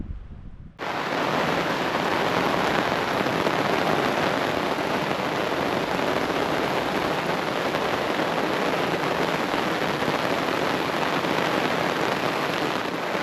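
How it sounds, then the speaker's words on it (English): Rain pours onto a tarp sheltering a solo wilderness campsite at Stuart Lake in the Boundary Waters, starting abruptly as a loud, dense, steady hiss that continues unbroken and close overhead. "The sprinkling turned into rain, so I'm gonna sit underneath the tarp here"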